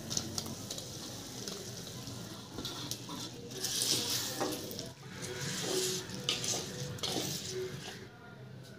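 Mashed boiled raw banana is tipped into a pan and stirred for a banana fry, with soft scraping of a spoon against the metal, light clinks and a faint sizzle, fairly quiet and close.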